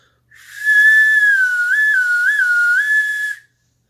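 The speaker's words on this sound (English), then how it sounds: "If you have a really small chamber like this little whistle" A small ceramic whistle with a tiny chamber blown in one long, high, clear tone lasting about three seconds, wavering slightly in pitch, loud and close.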